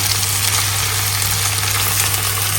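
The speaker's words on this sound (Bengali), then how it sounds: "তাই আজকে মাছ মাংস থেকে দূরে করলা ভাজি করতেছি" Bitter gourd (karela bhaji) frying in a pan, a steady dense hiss and sizzle close up, continuous and loud with no talk over it.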